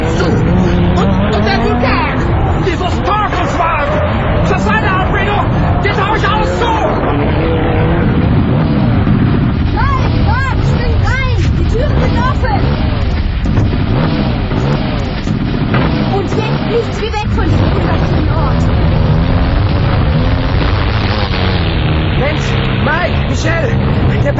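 An Audi's engine strains at full throttle while the car climbs a volcano hill, producing a loud, sustained roar with wavering revs throughout, mixed with excited voices and background commotion.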